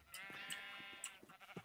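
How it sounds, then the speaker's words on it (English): A sheep in the video game Minecraft gives a quavering, wavering bleat, fairly quiet and alone. "All right, sheep, you need to leave this area."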